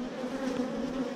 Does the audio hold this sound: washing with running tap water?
no